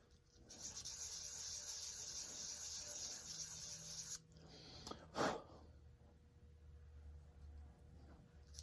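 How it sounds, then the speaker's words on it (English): Baked, cracked oak is sanded by hand across a flat surface, giving a steady, close rasping rub. The rubbing stops partway through, followed by a brief sharp knock. "Now I'm just sanding the flat surface of the drop just to give me some exposed surface."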